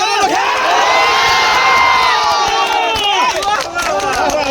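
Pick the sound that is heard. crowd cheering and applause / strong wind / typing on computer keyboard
crowd cheering and applause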